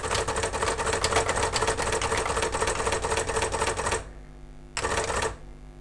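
A Brother AX-15 electronic typewriter's print head types a sentence in a fast, steady, close clatter for about four seconds, then a short burst after a pause.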